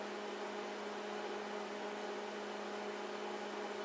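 A microwave oven runs with a steady electrical hum and a constant whirring drone, holding evenly without change.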